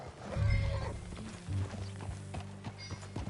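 A horse walks with a clear clip-clop of hooves at close range, several soft irregular steps, with a brief whinny-like tonal sound early on and faint low rumble underneath.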